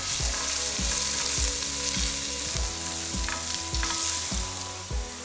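Onions softening in a pan for a chicken pasanda, giving a steady close sizzle and crackle that runs the whole time, with a few stirring knocks and scrapes of the spoon.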